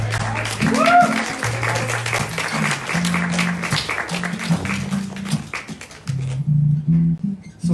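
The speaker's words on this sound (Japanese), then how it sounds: "久米さんに大きな拍手を。" Audience applause rings out in a steady patter of many hands, with a low musical tone and murmuring voices underneath, briefly dipping before resuming near the end.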